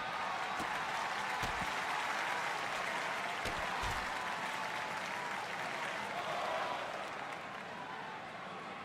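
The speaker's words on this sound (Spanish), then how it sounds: "los aplausos de los japoneses" Steady applause from a Japanese crowd inside the WWE 2K25 video game, a continuous dense wash of clapping that holds for the whole stretch with no commentary over it, easing slightly toward the end.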